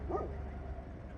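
A reservation dog gives a short yelp near the start, then a low background hum continues. No one speaks.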